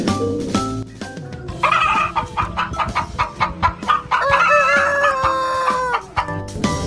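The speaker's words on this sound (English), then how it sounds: "H for hen." Hens cluck in a busy, overlapping chorus, with a rooster crowing among them; close and loud, with the rhythmic clucks continuing throughout.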